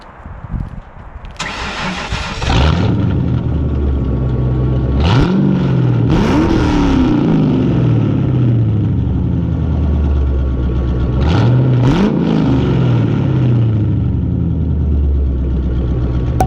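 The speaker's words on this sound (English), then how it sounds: "You want to rev it for me?" A 1994 car with a 5-liter engine and a no-muffler exhaust cranks and fires up, then revs loudly several times, each burst swelling and falling back to a rough, rumbling idle close by.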